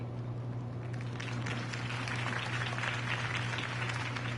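Steady applause from a crowd in the video game Batman: The Telltale Series fills the scene, dense clapping over a low constant hum, at moderate volume throughout.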